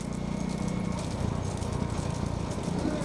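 Bullocks pulling carts in a six-cart bullock cart race at Kadambur in Thoothukudi district: rapid, dense hoofbeats and rattling wheels drum loudly and continuously for a few seconds.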